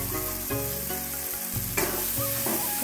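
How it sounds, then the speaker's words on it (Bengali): Soaked chana dal tipped into hot frying masala in a pan, a steady bright sizzle with a burst of fresh spattering partway through and stirring, close and continuous with no voices. "যে ছোলার ডালটা ভিজিয়ে রেখেছিলাম ছোলার ডালটা দিয়ে দিচ্ছি।"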